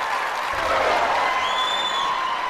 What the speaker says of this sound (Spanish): vamos a darle un fuerte aplauso para empezar con ella